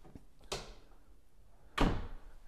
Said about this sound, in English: your linen closet